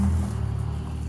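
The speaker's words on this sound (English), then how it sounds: "please pardon traffic noises" Traffic on a busy street passing a front porch, a steady low rumble of cars and engines filling the short stretch with no talk over it.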